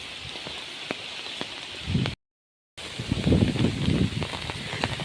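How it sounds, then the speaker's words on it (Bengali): Strong gusts roar through a rainstorm over a yard, a rushing wind surge under steady rain hiss, broken by a brief dropout before the blustery noise swells again. "অনেক বাতাস।"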